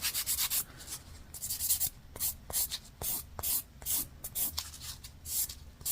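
A gel nail being filed: short, rhythmic raspy strokes come in bursts with brief pauses, close and fairly clear, with no one speaking.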